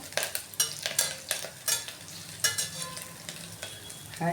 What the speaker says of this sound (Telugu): కొంచెం ఇప్పుడు హైలో పెట్టుకొని ఉల్లిపాయ బాగా ఇంకా కొంచెం మగ్గాలండి